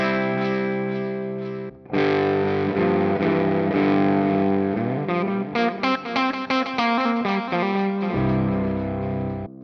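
A distorted electric guitar plays sustained chords and then a run of picked notes, washed in reverb that lets each note ring and trail off.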